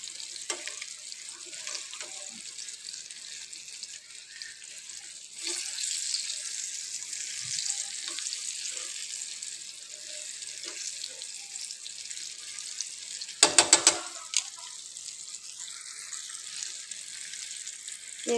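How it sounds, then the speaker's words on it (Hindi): Beef tikka pieces fry on a tawa with a steady, hissy sizzle throughout, rising slightly partway through. A brief clatter of utensils is heard near the end. "फ्राई होना शुरू हो गया, हम इनको इस तरह से पलटना शुरू कर देते हैं।"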